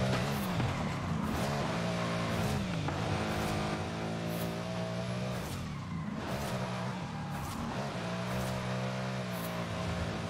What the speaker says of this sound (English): So definitely been having a lot of fun in Horizon, just ripping through these streets in LZ's RTR, which is Vaughn's RTR.